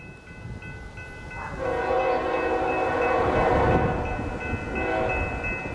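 An eastbound Union Pacific freight train passes through Montour, Iowa, its horn sounding in long steady blasts over a loud rumbling roll that builds and stays close throughout.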